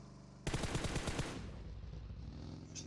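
Rapid burst of gunfire from a weapon in the battle royale game PUBG, a close, loud run of sharp shots lasting about a second, then a decaying tail and quiet room tone.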